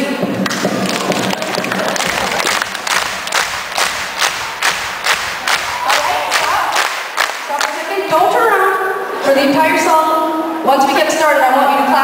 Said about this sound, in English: I want you to clap like that for the whole song and sing along